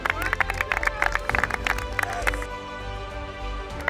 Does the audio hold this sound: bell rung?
no